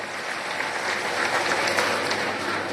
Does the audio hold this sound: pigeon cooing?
no